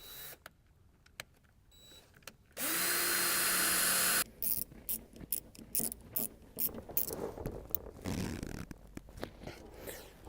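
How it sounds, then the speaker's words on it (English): A drill bores mounting holes for a Holley EFI ECU, giving one sustained loud whir of about two seconds. Quiet stretches come before it, and sharp clicks and clatter of handling parts follow after. "we're going to go ahead and drill our holes."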